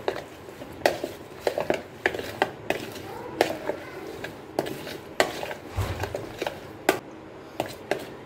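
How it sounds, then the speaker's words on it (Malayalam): Spiced tandoori potatoes stirred with a spoon in a bowl before air frying, giving a steady series of close, irregular scrapes and knocks that repeat throughout. "നമുക്കൊരു സ്പൂൺ വെച്ച് അങ്ങ് ഇളക്കുക തന്നെ ചെയ്യാം"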